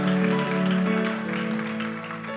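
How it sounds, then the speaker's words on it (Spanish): Congregation applauding at a Spanish-language Christian church service, clapping spread over sustained tones from music or an organ, steady throughout. "Denle ese aplauso fuerte a Cristo"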